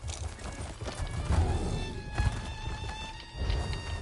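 Hooves of a horse steed ridden in Elder Scrolls Online clip-clop in a steady rhythm, close and fairly loud, with a faint whinny-like tone over the footfalls.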